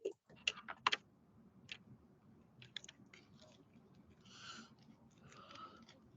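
A few quiet keystrokes tap on a computer keyboard in a short, irregular burst, close but faint, followed by soft low rustling.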